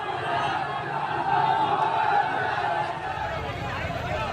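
A large crowd of more than 500 people chants slogans in a street protest, a dense continuous roar of many voices at steady loudness that swells briefly in the middle.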